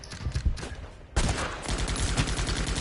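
Rapid bursts of gunfire from a PS4 war video game defending a barbed-wire position, dense volleys of shots cracking in quick succession, quieter at first then louder and sustained with a steady rattling rhythm.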